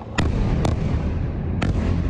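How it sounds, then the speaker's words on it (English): Explosions over Gaza at night: three sharp, loud blasts spaced across a couple of seconds, cutting through a steady low rumble that runs underneath throughout. "Explosions lighting up a dark Gaza sky"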